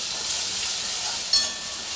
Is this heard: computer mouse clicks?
no